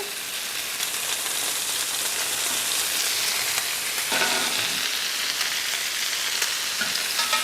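Butter sizzles and fries steadily in a hot pan with pork chops, a dense, even crackle that holds close and loud throughout with small shifts as it cooks.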